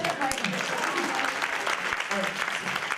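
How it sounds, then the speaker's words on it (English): Full round of applause from a forum audience, steady and dense throughout, with some voices mixed in under the clapping. "Can we give her a round of applause?"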